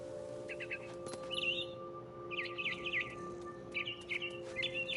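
Bird chirps in the video game What Remains of Edith Finch, with short clusters of high, quick tweets repeating over a steady hum and faint wind.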